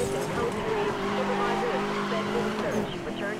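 Cars race and skid in the Need for Speed Most Wanted video game, a continuous loud engine drone with tire squeal throughout, dense and unbroken, with no clear talk over it.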